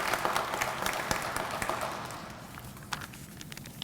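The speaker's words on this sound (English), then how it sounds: "Give him a great round of applause." An audience claps at a funding announcement for a community Hope Center, moderate applause that thins out and fades toward the end with a few scattered late claps.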